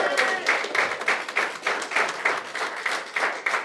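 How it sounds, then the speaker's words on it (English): A small crowd claps for the winners of a Retro VW Camper fundraising draw, with distinct rhythmic hand claps in a fairly steady beat rather than a dense roar, moderately loud and nearby. "a huge round of applause"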